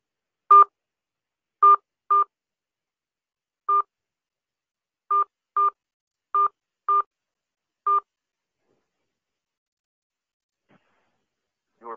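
Telephone keypad tones entering a PIN during an automated phone system call: nine short, clean beeps in an irregular rhythm with pauses between groups, loud and close against silence.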